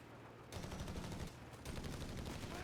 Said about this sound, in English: Jeep getting behind the heavy machine gun. Heavy machine gun refacing